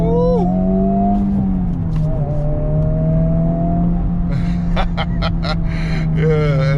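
FL5 Honda Civic Type R engine droning inside the cabin while accelerating after a gear change, its pitch dipping at the shift and climbing again, with someone talking over it and clicks near the end.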